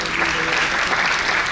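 An audience at a Punjabi poetry gathering, a national kavi darbar held in Delhi, claps loudly. The applause is dense and continuous and fills the whole stretch without pause.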